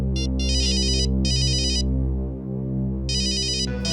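A phone rings with bursts of a bright electronic ringtone in repeating groups, close and clear over a steady low musical drone.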